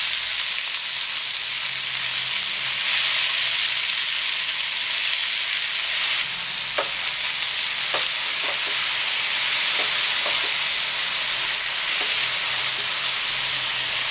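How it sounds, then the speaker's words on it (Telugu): Chukka kura greens fry in oil already used for frying prawns, a loud, steady sizzle and hiss with a few sharp crackles and spatters scattered through the middle, no speech. "ఈ రొయ్యలు వేపిన నూనెలోనే మళ్ళీ ఇప్పుడు మనం ఈ చొక్క కూర వేయించుకుందామండి"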